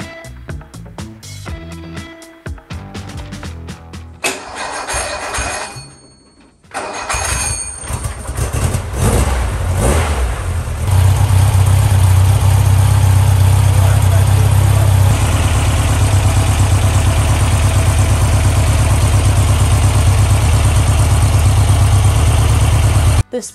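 A built VW Beetle stroker engine cranks over, catches and runs up into a loud, steady idle that drones on close by, with some speech over the start.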